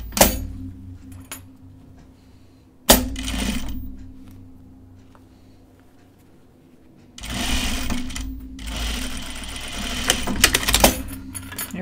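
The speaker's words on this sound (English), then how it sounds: "It's just nice to be able to just continuously sew here too." A domestic sewing machine stitches a tunic in two bursts of rapid, even mechanical whirring. A quieter pause with small clicks and handling noises separates them.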